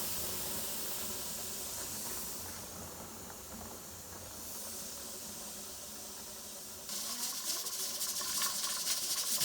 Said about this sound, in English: Hear it? See the steam?